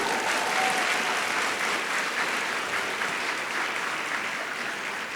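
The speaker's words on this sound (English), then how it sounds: "Let's give them a round of applause for the support they have given" Sustained applause from a large commencement audience at the East Georgia State College spring 2017 ceremony, honoring the faculty in academic regalia; steady, dense clapping that holds evenly throughout and tapers only slightly at the end.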